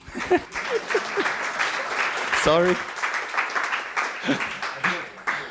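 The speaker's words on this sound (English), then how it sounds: "A small applause" An audience at a technical talk gives a short round of applause that rises and holds, with a voice speaking briefly over the clapping and a few other voices around it.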